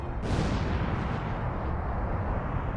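An explosion sound effect depicting a superenergetic gamma-ray burst from a massive star: a sudden loud blast followed by a dense, continuous roaring rumble that stays heavy and loud to the end.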